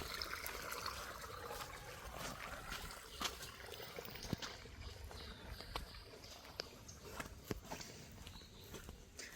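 Water runs steadily along a footpath leading to a shrine, a continuous trickling wash with scattered footsteps and small splashes throughout, fairly close, with no talk.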